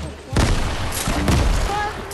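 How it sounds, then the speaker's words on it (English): Rocket launcher (RPG) fire and blasts in the Fortnite video game: two loud, close broadband explosive bursts about a second apart, each decaying into a rumbling, crackling tail under faint talk. "Rocket launcher!"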